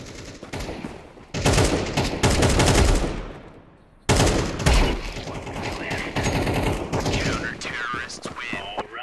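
Rapid bursts of gunfire in Counter-Strike 2 on an aim workshop map, loud and dense in two long volleys separated by a brief gap, with faint game sounds between shots.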